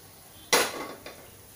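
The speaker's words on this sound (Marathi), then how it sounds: "इथे मी थाळीत काढून घेते" Coconut burfi mixture is scraped into an oiled plate with one loud metallic clatter, then a softer second clink, with quiet around them.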